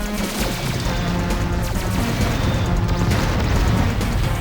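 Laser weapons fire in the Descent 2 video game, a dense, loud barrage of rapid blasts and booming impacts that runs continuously without a break.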